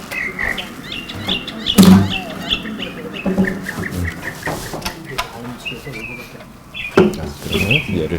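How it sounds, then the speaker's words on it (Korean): Mockingbird song plays through a laptop speaker in a room, a varied run of chirps, trills and repeated phrases, with a person talking intermittently over it. "얘는 머킹버드라고 이렇게 합니다"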